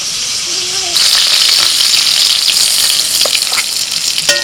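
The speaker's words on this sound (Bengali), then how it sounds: "একদম কচি পটল, কথা বলতে বলতে পটলগুলো সব ভাজা হয়ে গেল।" Tender young pointed gourd sizzles in hot oil, a close, steady frying hiss that swells after the first second, with a few faint clicks and a short voice near the start.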